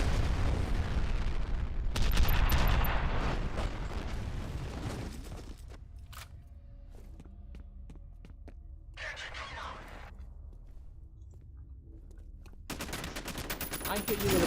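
Rockets and heavy gunfire in the first-person shooter F.E.A.R., loud dense bursts of explosions and shots in the opening seconds and again at the end, with quieter stretches of clanks and a low hum between.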